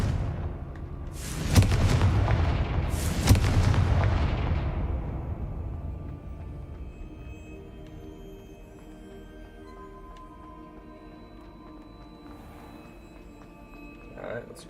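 A Confringo spell goes off in a video game as two heavy, booming blasts close together, their rumble slowly fading into quieter game ambience.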